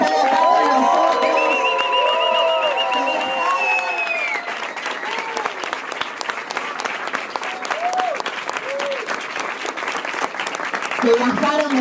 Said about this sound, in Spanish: quiero pedir un fuerte aplauso para los compañeros de LSI-U que están acá con nosotros